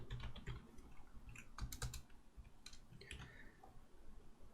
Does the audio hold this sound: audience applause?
no